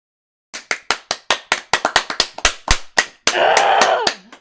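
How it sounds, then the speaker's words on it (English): Sharp hand claps ring out one after another in an uneven rhythm, about a dozen, followed by a brief burst of noisy clattering. "Yes, so many hard claps right now."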